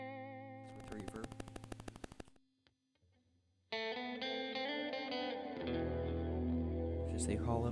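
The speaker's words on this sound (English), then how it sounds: "With reverb." Clean electric guitar played through a Hall of Fame Mini reverb pedal: strummed chords, a brief near-silence, then sustained notes that ring out with a lush wash of reverb tail.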